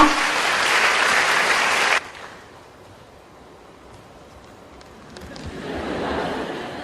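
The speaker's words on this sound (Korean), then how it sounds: "도종환 선생님 모시겠습니다. 박수 부탁드립니다" An audience at a book concert applauds loudly to welcome the poet Do Jong-hwan, with dense clapping that stops abruptly after two seconds, then a quiet pause before a softer swell of clapping returns.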